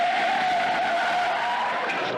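Car tires skidding in a car accident from a movie trailer, a sustained, loud screech with a steady squealing tone lasting the whole moment, alone without talk.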